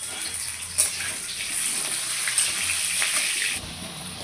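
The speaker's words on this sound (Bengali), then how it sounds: "তেল গরম হয়ে গেছে, তো আলুগুলো আমি আগে ভেজে নিচ্ছি" Potatoes frying in hot oil in a wok give a steady, loud, broadband sizzle, constant and close throughout, with a few brief spikes of spattering and no talk.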